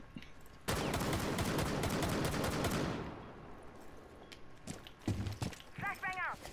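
Rapid automatic gunfire in a shooter video game, a dense loud burst lasting a couple of seconds that fades out, followed by scattered single shots and some brief voice sounds.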